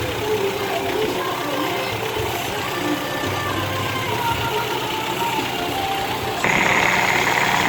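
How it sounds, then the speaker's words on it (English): The engine of a 2013 Kia Sportage runs steadily at idle, with the belt turning the A/C compressor pulley, giving a close, continuous mechanical drone and hum under overlapping speech. "You can see the belt running over the compressor pulley."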